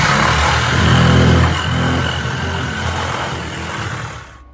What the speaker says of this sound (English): So I got me some sheet metal, and I got my cutter, my cheap cutter from Harbor Freight, a sheet metal cutter